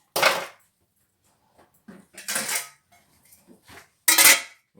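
A lid knocked onto a pot of macerating orange jam makes three sharp metallic clanks, loud and close, with quiet gaps and small rattles in between.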